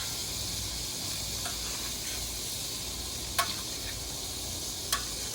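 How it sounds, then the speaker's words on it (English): Shrimp fry in hot oil with a steady, even sizzling hiss, broken only by two faint, brief clicks. "I'm going to put my shrimp to fry"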